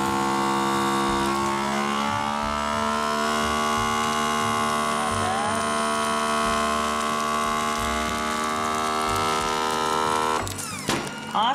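A vacuum sealer drones steadily as it sucks air out of a bag, a sustained humming whir with a slowly rising pitch, ending in a short click and rustle.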